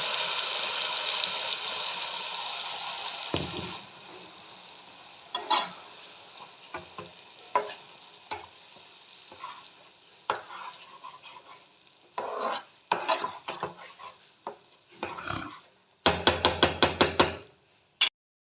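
Ridge gourd going into a pan and stirred, with a paste of hilsa fish heads for a ridge gourd mash: an opening sizzle, then scattered scrapes and clatters, and a quick run of stirring strokes near the end.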